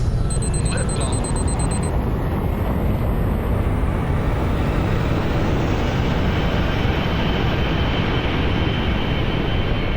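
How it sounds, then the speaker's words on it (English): Rocket liftoff carrying the ULTRASAT space telescope: a dense, loud, continuous roar that holds steady and fills the whole stretch, with a brief high tone near the start. "Liftoff."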